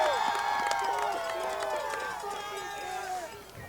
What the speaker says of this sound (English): Colorado crowd not happy.